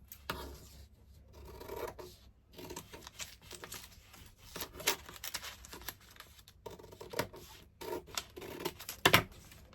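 Scissors cutting out a half-scale paper skirt pattern, a run of close, crisp snips and paper rustles in irregular bursts with short pauses, no voices.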